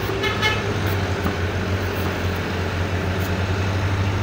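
Steady roadside traffic rumble with a few short car horn toots, continuous and moderately loud, no talking.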